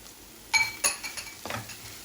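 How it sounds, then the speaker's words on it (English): Spoon scraping and clinking in a pan as jeera powder, coriander powder, red chili powder and salt are mixed in for palak paneer, a few distinct clanks and scrapes over a faint background. "We are going to mix it and we are going to cover it"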